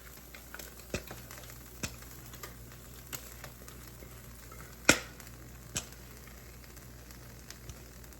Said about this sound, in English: See, it's already starting to fry here.